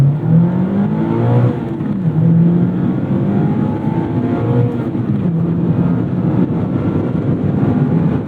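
A small sports car engine pulls hard under acceleration, a loud steady roar with rising and falling pitch as it climbs through the revs, heard from inside the cabin without talk.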